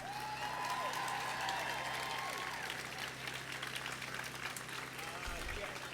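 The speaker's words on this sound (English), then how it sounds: "Please join me in giving a round of applause for everyone who spoke." A crowd applauds steadily from start to finish, a dense, even patter of many hands clapping at moderate volume.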